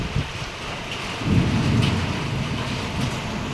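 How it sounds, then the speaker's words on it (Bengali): Steady rain pours down with a low rumble of thunder swelling in the middle, a constant wash of falling water with no voices. "বৃষ্টি পড়ছে।"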